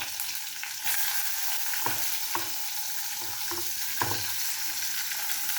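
Green chilies, onion and cumin frying in a pan for a greens-and-lentil dish, a continuous soft sizzle broken by several distinct spoon scrapes and stirs, close and quiet with no speech.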